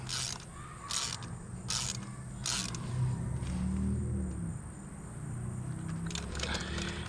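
A hand ratchet clicks in short bursts while spark plugs are removed from a Mitsubishi Evo X during a tune-up, with close, crisp ratcheting near the start and again at the end over a low background hum.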